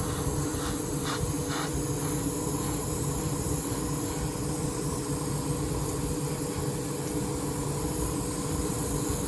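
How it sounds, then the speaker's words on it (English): Airbrush spraying Tamiya acrylic paint, a steady, unbroken hiss of compressed air and atomised paint that runs loud and close through the whole stretch with no talk. "This isn't the most disciplined spray pattern in the world, but it certainly is getting the job done."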